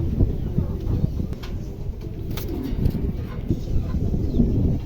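Pair of new adult pigeons offered for sale, cooing in soft, low, repeated murmurs amid rustling and background noise, with someone talking throughout.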